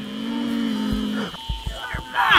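A goat in the video game Devour gives a drawn-out bleat close by, followed by a few short thuds and a brief burst of noise at the end.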